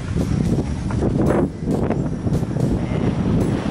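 Steady wind buffeting a microphone outdoors while riding a Sondors Fold X e-bike, a constant broadband rush with gusty swells throughout.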